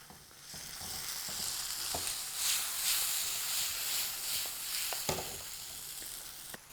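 Tomatoes hit hot oil with chili in a pan for pink sauce pasta, giving a bright, close hiss that swells and settles, broken by sharp clicks and knocks of a utensil against the pan.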